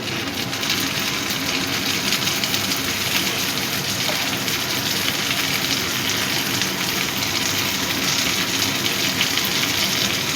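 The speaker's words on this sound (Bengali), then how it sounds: "পেঁয়াজটা ভাজা হয়ে গেছে, এবার আমি টমেটোটা দিয়ে দিচ্ছি।" Steady sizzle of tomato dropped into hot oil with fried onion, a continuous loud crackling hiss that holds evenly throughout without pauses or talk.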